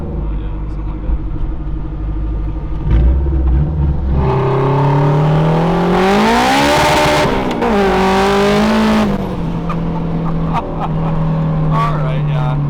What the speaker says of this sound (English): that was full throttle. It's a Turbo Civic.